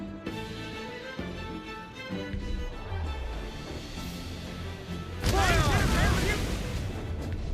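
Ship cannons fire in Assassin's Creed Black Flag, a loud crashing burst of shots in the latter part after a few duller thumps, with a voice heard around the naval fight.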